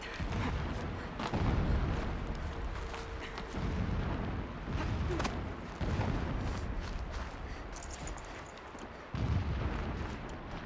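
Repeated deep booms rumble in the distance in the video game Horizon Zero Dawn, heavy explosions rolling one after another with a few sharper cracks between them.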